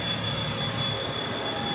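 The auxiliary power unit of a Challenger 1 main battle tank runs as a steady, loud mechanical drone with a constant high whine over it and no pauses.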